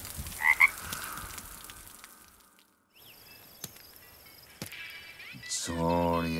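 A frog in Goa during the monsoon season gives a short pair of croaks near the start. Quiet stillness and a few clicks follow, then louder tones and voices come in at the end.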